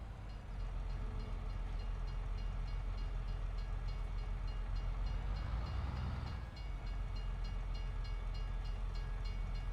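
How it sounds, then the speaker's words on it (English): A train rumbles past a railroad crossing in Farming Simulator 22, a loud, steady roar of rolling wagons that fills the whole stretch with a brief swell midway. "there's a train coming, so I'll have to wait for this one"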